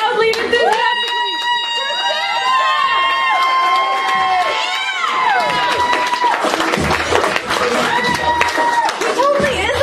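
An audience at a poetry slam cheers, whoops and claps loudly and enthusiastically, with rising and falling shouted voices sustained for about ten seconds.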